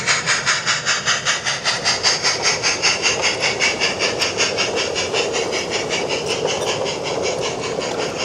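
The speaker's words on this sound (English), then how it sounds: "the morning down mixed at last departs Buckley Station, to continue its journey onwards to Bickerton Station" A model light railway train runs along the line, its steam exhaust beating in a fast, regular chuff over continuous hiss, close and loud, the rhythm quickening and smoothing as it goes.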